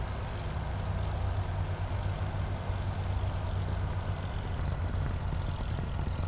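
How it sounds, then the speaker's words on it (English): A propeller plane's engine burbles steadily and close, a low, even drone with a rough, throbbing texture that holds throughout. "Oh, that burbling sound of the engine is delicious."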